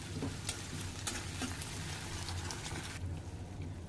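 Onion, potato and tomato fry in a pan with a steady, close sizzle and crackle that runs unbroken throughout, brightening briefly before easing off near the end.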